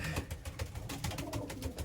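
A captured stray breeding pigeon coos in quick repeated low pulses, close and steady throughout, with no talking.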